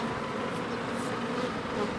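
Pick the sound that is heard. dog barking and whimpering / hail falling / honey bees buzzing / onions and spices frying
honey bees buzzing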